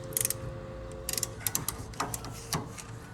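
Rear wheel hub bolt on a 2003-2007 Honda Accord 3.0 tightened with a torque wrench, bursts of quick metallic ratchet clicks in short runs, close and moderately loud, no voices.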